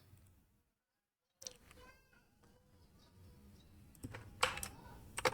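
Keys clatter on a computer keyboard as a command is typed, starting after a brief silence with a run of quiet, uneven clicks, then a few sharper, louder keystrokes near the end; faint background sound throughout.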